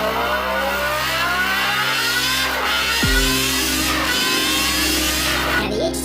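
A Kawasaki H2R motorcycle engine runs loud and close, its pitch climbing and falling through repeated revs, with no talking over it.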